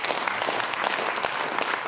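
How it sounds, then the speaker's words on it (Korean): Audience applause at a Cheonan mayor's book concert event, a steady dense patter of many hands clapping throughout, loud and continuous with no break. "이분들에게도 큰 박수 한번 보내주시기 바랍니다."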